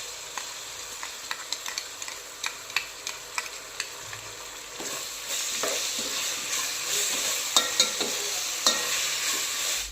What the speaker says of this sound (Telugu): ఇప్పుడు ఇందులో జింజర్ గార్లిక్ పేస్ట్ వేస్తాము.